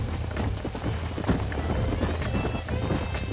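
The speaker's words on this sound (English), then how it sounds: "There's the horses!" Horses gallop in Red Dead Redemption, a dense, continuous drumming of hooves close by with steady rumble and no clear speech.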